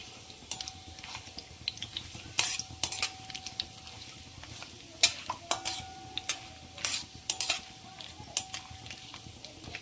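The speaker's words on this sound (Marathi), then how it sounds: "आणि याला छान परतून घेऊया" Whole spices sautéed in a pan for veg biryani, with frequent sharp clinks and scrapes of a spoon stirring against the metal over a low background sizzle.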